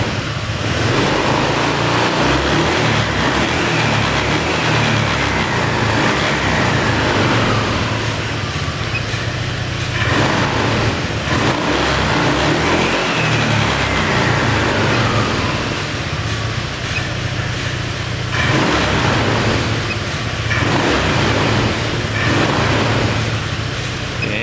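Honda Vario 125 scooter engine held at a steady idle-to-revving drone with throttle blips, two rising surges around the middle of the run, continuous and fairly loud with no talking.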